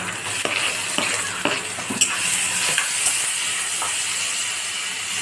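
Onion and tomato fry in a pan with a close, constant sizzle, punctuated by several quick scraping strokes of a spoon stirring through them.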